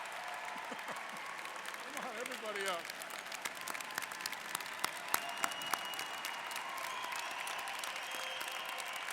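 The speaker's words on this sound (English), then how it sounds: "let's give them a round of applause" Sustained commencement applause from a graduating audience, moderately loud and steady, with a voice urging everyone to stand talking over it.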